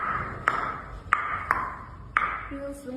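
A person imitates a bouncing ping pong ball with the mouth, making four crisp, close clicks at uneven intervals over a steady tonal hum.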